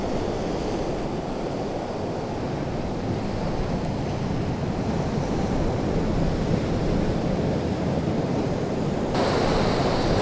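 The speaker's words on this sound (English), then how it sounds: "Listen to the roar of those waves." Ocean waves roar steadily onto a rocky beach, a loud, continuous wash of surf with wind buffeting the microphone throughout.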